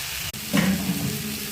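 Prawns and hot red chili powder hit hot oil with spinach and vegetables in a pan, bursting into a loud, steady sizzle with stirring scrapes, following a single sharp click near the start, no voices.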